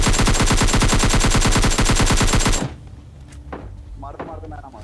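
Rapid automatic gunfire from PUBG Mobile Lite, a loud sustained burst of dense regular shots that cuts off abruptly, followed by quieter game sounds and a brief voice.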